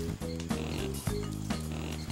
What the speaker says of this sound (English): Those sound like pigs, right? But they're not. Those are ground lemurs.